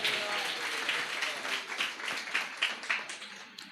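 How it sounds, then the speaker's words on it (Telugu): A church congregation breaks into loud applause during a sermon, a dense, steady patter of many hands clapping at once that continues throughout with no pause. "అందరు గట్టిగా చప్పట్లు కొట్టి స్తోత్రం చెప్పాలి"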